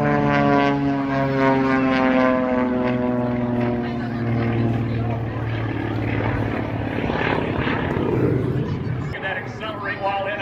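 A propeller airplane at full throttle passes low in front of an airshow crowd, its loud engine drone with strong harmonic tones sliding downward as it goes by, under continuous commentary.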